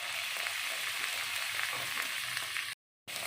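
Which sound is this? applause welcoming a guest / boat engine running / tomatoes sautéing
tomatoes sautéing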